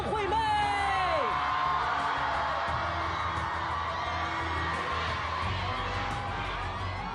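A loud, dense crowd roars and cheers continuously at a televised singing competition as singers are welcomed onto the stage, with a high voice rising and falling early on above the sustained din.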